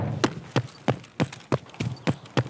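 A character in Escape From Tarkov stomps along in heavy, evenly spaced footsteps, eight loud thuds about a third of a second apart, close and clear with nothing else over them.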